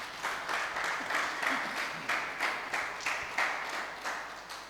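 A church congregation claps loudly together in a regular, pulsing rhythm, each beat a distinct burst of many hands repeating steadily.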